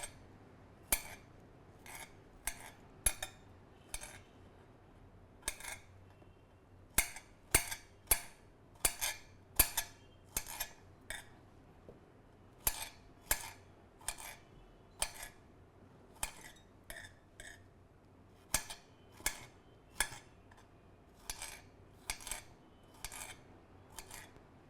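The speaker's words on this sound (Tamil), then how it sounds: "ஸ்ட்ராபெரியை வந்து ரஃப்பாக சாப் பண்ணிக்கோங்க." A knife roughly chops strawberries for jam, making a steady series of crisp taps in short clustered bursts with brief pauses, close and fairly quiet with no talking.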